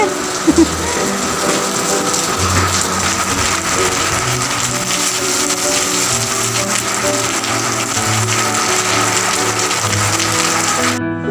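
Heavy monsoon-style downpour drumming steadily on surfaces outdoors, a dense continuous hiss with pattering and rattling close by, unbroken throughout with no talk.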